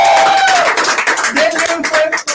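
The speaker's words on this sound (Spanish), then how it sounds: "Fuerte aplauso al doctor Winnie Pooh" Audience clapping at a comedy open mic night, close and lively, partly masked by a voice calling out over it, with the applause breaking off abruptly at the end.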